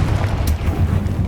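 A blasting spell cast in the video game Hogwarts Legacy, heard as a heavy, booming rumble with a sharp burst partway through, loud and close.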